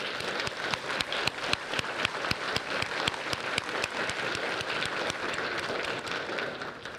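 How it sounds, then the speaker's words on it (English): A crowd in a high school underclassman awards ceremony gives sustained applause: dense, steady clapping with sharp individual claps standing out, filling the room evenly for the whole stretch without talk. "Let's give our students and our parents a round of applause."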